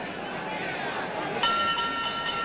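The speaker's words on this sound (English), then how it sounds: "And there's the bell." The ringside bell sounds once, sharp and ringing, to end round six of a boxing bout between Jose Napoles and Billy Backus, cutting through steady crowd noise and an announcer's voice.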